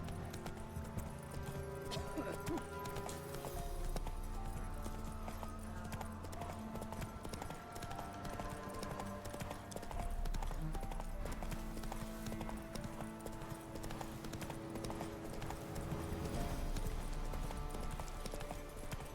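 Roach, a horse in The Witcher 3 video game, is ridden along a road, with steady clip-clopping hooves throughout over a bed of game music and ambience.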